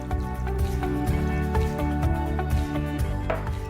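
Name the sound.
pouring water into a smoothie blender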